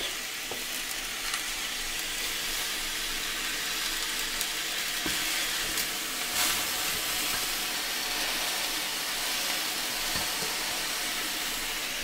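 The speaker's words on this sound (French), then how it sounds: "on va les poser dans la poêle juste pour les colorer" Pieces of entrecôte steak sizzle steadily as they brown in a hot frying pan, a dense continuous crackle and hiss with small pops, close and even throughout, no talking.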